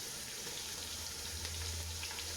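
Steady frying sizzle of leeks and green onion in a pan for fried rice, a constant bright hiss with a low hum underneath, continuous and fairly close throughout.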